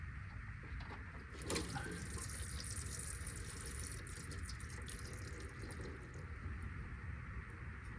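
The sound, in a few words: water draining out of a vehicle part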